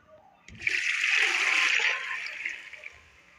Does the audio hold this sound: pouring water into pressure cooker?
yes